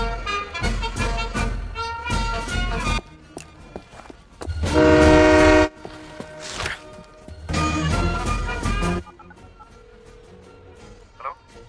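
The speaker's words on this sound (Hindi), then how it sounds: "गोल्ड ट्रेन निकल चुकी है।" A train departs with loud bursts of rumbling rail noise and a horn-like blast mid-clip, alternating with quieter stretches and some faint voices.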